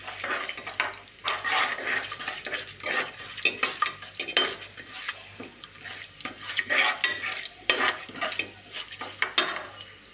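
Cumin seeds, a spoonful, frying and being stirred in a pan while cooking khichdi, with faint sizzling and irregular scraping and clinking strokes of a spoon against the pan, fairly quiet and close.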